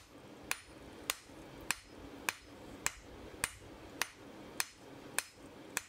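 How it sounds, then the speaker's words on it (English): A blacksmith's hammer rings on hot steel over an anvil while tapering a hot-cut hardy tool: about ten sharp, evenly spaced strikes, roughly one every half second, close and clear with no talk. "So I'm just hitting it to the side now just to push the top over and centralize it"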